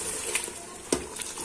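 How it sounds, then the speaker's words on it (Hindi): Mutton frying with yogurt just added gives a low sizzle, with a few clicks and one sharp scraping knock from a spoon against the pot, close and fairly quiet. "गोश्त की भुनाई हो गई है, और अब इसमें मैं 4 से 5 टेबलस्पून मैंने इसमें दही ऐड किए हैं"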